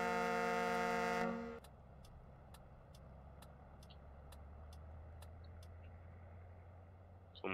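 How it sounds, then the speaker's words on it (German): A Massey Ferguson tractor horn in Farming Simulator 15 blares in one loud, steady honk of about a second, then cuts off, leaving a low engine idle with faint regular ticking. "Hupe."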